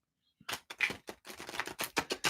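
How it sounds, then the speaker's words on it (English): A stiff, oversized tarot deck is shuffled close up, a run of sharp papery riffles and taps in an uneven rhythm, alone and fairly quiet. "Stiff, oversized deck. All right. Let's shuffle up."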